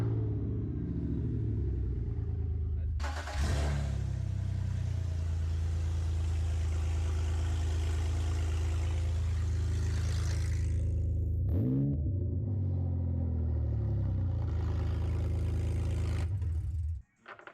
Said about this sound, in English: we're gonna do a little comparison clip of before the old stock exhaust and then these guys.